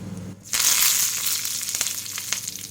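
Whole long green chillies and curry leaves dropped into hot oil with cumin seeds: after a brief pause, a sudden loud burst of crackling sizzle that stays fierce and close before easing slightly, with occasional sharp pops.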